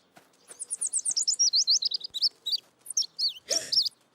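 A cartoon baby bird chirps in a quick run of bright, high tweets, evenly spaced at first and then looser and more scattered, fairly close and clear with no talking.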